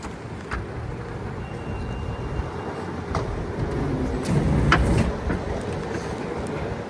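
Rumbling, roaring noise at the entrance of an İzmir metro station, with low-pitched continuous rail or traffic rumble and a few faint clicks, swelling slightly toward the middle, steady and fairly close.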